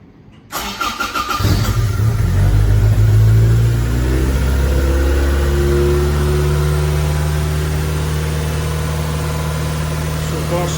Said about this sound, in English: It's always idles high when they start. It's just a trait of the Mark 1 MR2.